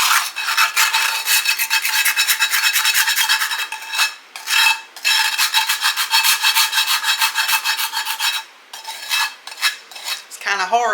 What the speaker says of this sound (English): Now I know this scraping noise might bother you